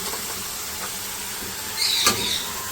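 Chopped eggplant and potato go into hot masala in a pan, making a soft, steady sizzling hiss that swells into a brief louder burst of frying partway through.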